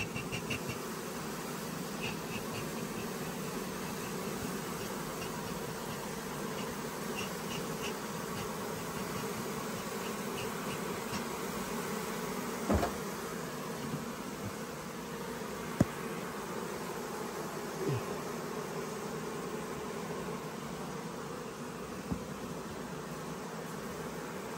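Dense, continuous buzzing of many bees close by during honey harvesting, a steady drone lasting the whole time with a few faint knocks.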